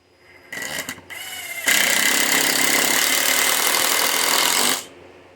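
An impact driver sinks 2-inch screws into wood while a workbench organizer is built: two short bursts come first, then one loud, steady hammering run of about three seconds, close by with no talking.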